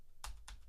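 Two crisp keystrokes on a computer keyboard while typing JavaScript code, close and faint, with a quiet pause between the taps.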